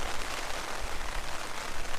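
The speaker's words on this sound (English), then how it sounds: "It looked like it was kind of slowing down a little bit on the rain" Rain falling steadily during a mountain thunderstorm in the Upper Hilton Lakes Basin, a dense, even hiss of drops on surfaces close by, with no voices.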